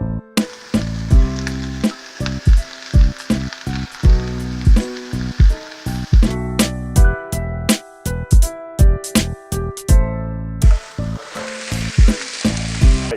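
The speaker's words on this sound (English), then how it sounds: "So let's get our ingredients sizzling." Steady loud sizzling of vegetables and egg whites frying in a hot pan, with repeated clinks and scrapes of a utensil stirring in a rhythmic pattern.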